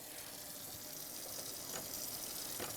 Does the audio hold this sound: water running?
yes